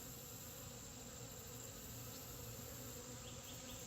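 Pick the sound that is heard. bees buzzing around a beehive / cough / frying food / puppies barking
bees buzzing around a beehive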